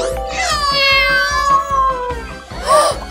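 A robot toy dog's electronic cat meow, a drawn-out wavering mew followed by a shorter one, loud and close over a faint rhythmic mechanical clicking.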